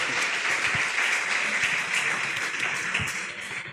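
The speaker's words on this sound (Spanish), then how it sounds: "Démosle un fuerte aplauso a nuestros actores." A church congregation applauds its actors during a Sunday service, giving steady, dense clapping at moderate volume that runs unbroken for the full stretch, with a few sharper claps standing out.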